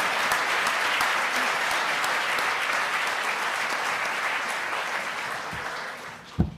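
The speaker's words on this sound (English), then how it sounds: "Applause, please." Audience applause at a university lecture in a large hall, sustained dense clapping that gradually thins and fades out at the end, with a thump at the close.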